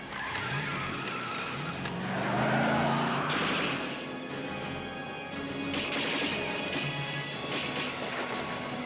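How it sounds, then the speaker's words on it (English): A VW van chases a DeLorean through a mall parking lot, cars revving and tires squealing in skids with a crash-like impact midway, loud and close, layered with movie soundtrack. "I've chosen the short clip of the VW van chasing the DeLorean in the mall parking lot"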